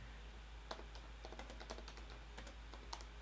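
Keys clatter on a computer keyboard in quick, uneven bursts of soft clicks, close but faint over a low steady hum, with no voices.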